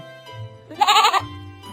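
A goat in an animated story, happily eating fallen berries, gives one loud, wavering bleat lasting under half a second, set against steady tonal background music.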